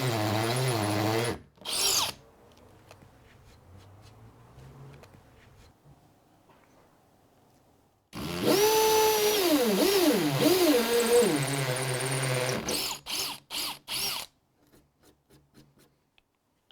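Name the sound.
battery drill drilling into brick or masonry fence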